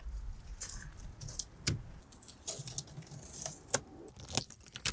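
A car key jingles and turns in the ignition of a 2013 Chevy Equinox, giving a close, scattered series of light metallic clinks and rattles.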